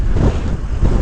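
Strong wind gusts buffet a motorcycle rider on the road, a loud, continuous low roar of rushing air and mic buffeting that swells and surges throughout with no talking.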